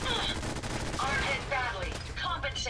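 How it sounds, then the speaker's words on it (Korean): A Gatling gun firing in Fallout 4 on survival difficulty: a continuous rapid stream of shots over the whole stretch, with a voice talking over the firing. "얘가 다 못 맞춰도 게틀링 건이기 때문에 어느 정도 데미지가 들어가 줄 거라고"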